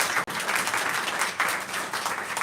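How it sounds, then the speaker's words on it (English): Audience at a book launch applauding, a dense, continuous burst of clapping close by that swells and holds for a couple of seconds. "I'd love to give him a round of applause."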